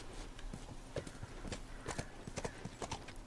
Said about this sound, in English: Such a beautiful horsey.